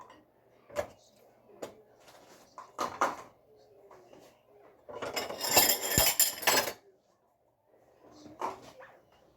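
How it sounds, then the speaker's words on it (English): Dishes being washed at a kitchen sink: clinks of cutlery and plates at intervals, a burst of running water in the middle, with a dog barking and a voice nearby. "Need to wash some dishes."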